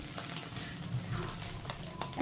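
Beaten egg scrambles in a hot wok for chowmein, giving a soft, low sizzle with a few light scrapes of stirring, faint and close, with no talking.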